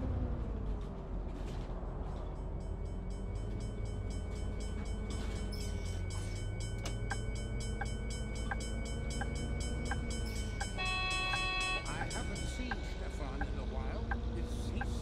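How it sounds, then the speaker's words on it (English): A train rolls toward a railroad crossing in the bus-driving game Bus Simulator 18, a steady rumbling hum with crossing-bell tones and a horn-like sustained tone running near the end, while someone talks over it throughout. "we have to cross the railroad, but as you can see, the train is coming"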